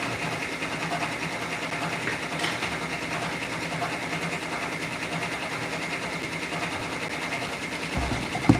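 An embroidery sewing machine runs steadily at close range, a continuous dense mechanical whir with a fast repetitive stitching rhythm that holds even throughout, with a small clunk at the end.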